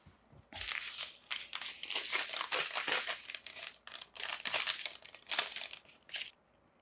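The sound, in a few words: paper towels being torn and crumpled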